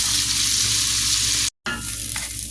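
Bacon and onions frying in a pan give a loud, steady close-up sizzle that runs continuously, broken by one brief dropout, with no voices over it.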